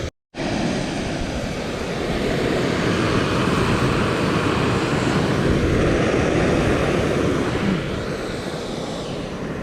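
A Jetboil camping gas stove burning steadily while water heats on a hiking trip at Mt Kosciusko, a loud continuous roaring hiss close by that holds unbroken for several seconds after a brief gap at the start.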